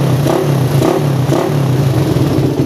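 A motorcycle engine with a PE 30 carburetor idles with a steady, throbbing rumble and a few brief rises in revs, kept to low RPM, close and loud, with no voices.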